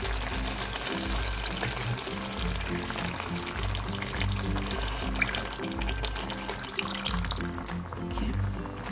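A little water is poured into a pot of chicken curry, making a soft, continuous trickle and splash with faint sizzling underneath, fairly quiet and steady throughout.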